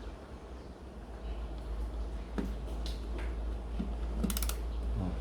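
Ratchet wrench with a 10 mm socket on a long extension turning a bolt while removing the fan motor of a Hitachi window-type inverter air conditioner, model RA-32NQ; faint, sparse mechanical clicks sit under a steady low hum.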